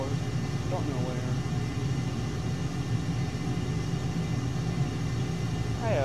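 Steady, even jet engine roar of an F-22 Raptor flying at night in Microsoft Flight Simulator, a constant rumbling drone with a brief voice-like chirp at the start and end.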